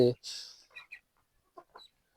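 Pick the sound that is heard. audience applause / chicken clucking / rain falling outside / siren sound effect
chicken clucking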